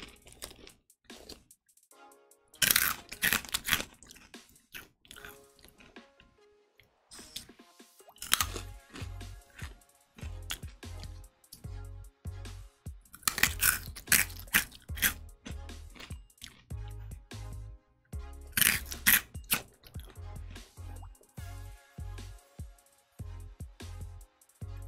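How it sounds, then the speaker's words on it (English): Someone crunches and chews a snack close to the microphone, with crisp bursts of bites in irregular clusters and quieter chewing and rustling between them. "You just hear me crunch, okay?"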